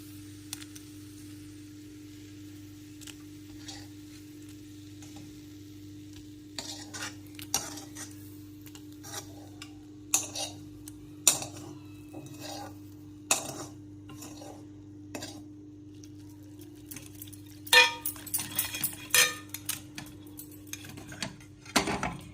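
Drumstick leaf saaru being stirred in a cooking pot, with metal utensil clinks and scrapes arriving in irregular bursts over a steady low hum, growing busier toward the end.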